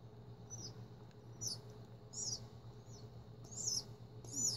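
A baby pigeon being hand-fed a formula of ground birdseed, oats, almond milk and blueberries gives short, high squeaky chirps in bursts every second or so, close up over a low steady hum.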